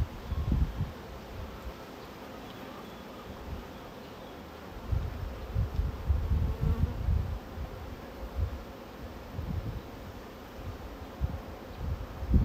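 Irritated honey bees buzz close and steadily during a hive inspection, a dense swarming hum with louder passes as bees fly near, and no talking.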